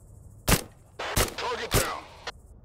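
Gunshots in the PC video game Thunder Tier One: three sharp shots ring out about half a second apart, then a fourth, quieter shot, with faint background noise between them.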